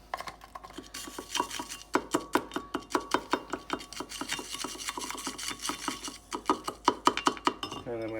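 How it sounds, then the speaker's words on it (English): Calcium and salt being stirred into hot water, a spoon or stirrer scraping and clinking against the container in a steady, rapid rhythm of sharp close taps that runs throughout without a break. "I'll just stir this up until everything's nice and dissolved"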